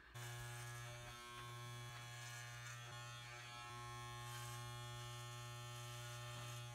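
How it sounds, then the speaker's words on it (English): Electric hair clipper fitted with a long guard runs close and steady while cutting thick hair, a continuous buzzing whine with slight shifts in tone as it moves through the hair, with no talking. "I like to use the clipper to do the shaping itself."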